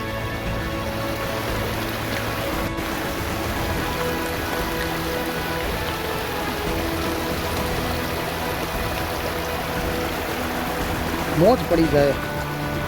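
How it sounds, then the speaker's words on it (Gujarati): A rushing monsoon stream flows through forest on a mountain trail, a steady broadband wash of water close by, with voices speaking over it. "એ લેવલનું પાણી અહીં ઝરણા વહી રહ્યા છે."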